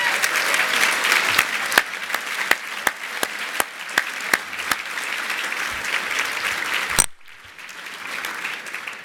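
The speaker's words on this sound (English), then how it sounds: "can we start by giving the service folks who are here a round of applause?" Steady applause from an audience at a governor's speech fills the room, with scattered sharp claps standing out, then cuts off abruptly and fades to quieter room noise.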